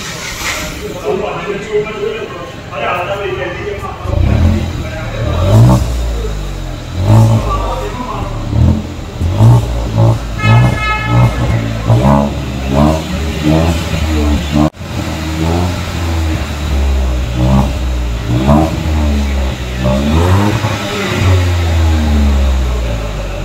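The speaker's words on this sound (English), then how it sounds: "And here's how the exhaust sounds." A Hyundai i20 N-Line's exhaust revs repeatedly, the engine note climbing and falling in a series of loud, throaty blips at close range.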